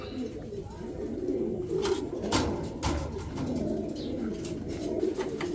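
Danish pigeons in a pen coo softly and repeatedly, close by, with faint rustling and scattered sharp sounds over a low background.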